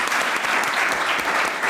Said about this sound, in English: So we need to just give them a big round of applause.